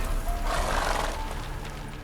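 Roach, Geralt's horse in The Witcher 3 video game, gives a short, fairly quiet neigh that rises and fades within about two seconds, with no talk over it.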